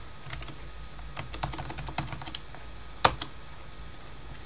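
A password is typed on a computer keyboard, with quick, irregular clicks of keys close by and one firmer tap near the end.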